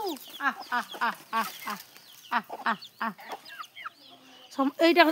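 Rooster clucking in repeated short bursts, close and fairly loud, with a few brief pauses between calls and a louder run at the end.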